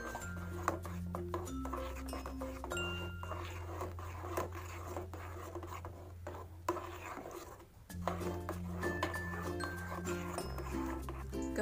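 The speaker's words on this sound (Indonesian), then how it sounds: "Kemudian ini aku aduk." A spoon stirs a mango pudding mixture of blended mango in a pot off the heat, making soft scraping and clinks over a low steady hum.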